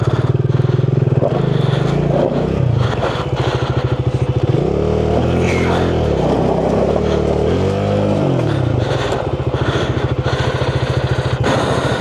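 A motorcycle labors up a steep, rough mountain forest road, its engine close and loud, rising and falling in repeated revs as the rider strains on the climb.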